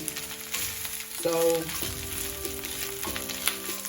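Food fries in a pan for an African meal, a steady bright sizzle with occasional stirring clatter and some faint tonal background sounds.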